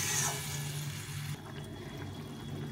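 Water poured from a vessel into a cooking pot of curry, a continuous liquid gush that carries on and then eases into a softer trickle, close by with no talk.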